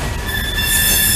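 Norfolk Southern freight train led by ES44 locomotives, an ES44AC and a Conrail Heritage unit with three ES44DCs, passing close with loud metallic wheel squeal and steady rail rumble that swells slightly toward the end.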